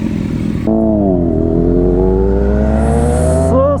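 Another motorcycle at a UK biker meet-up rolls in, its engine holding a steady, rising drone that swells briefly near the end, loud and close with no talking.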